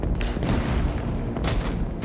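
Car exploding in Arma Reforger, heard as a heavy, rumbling boom with dense low-end roar and scattered crackling bursts sustained across the brief moment.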